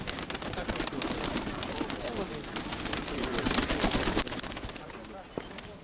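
Pigeons cooing amid a busy wash of chirping birds and rustling outdoors, with people talking nearby.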